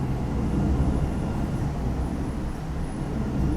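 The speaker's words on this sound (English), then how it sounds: "It's the new train." A new train passes with a steady low rumble and a broad roar that stays loud and fairly close, with no talking.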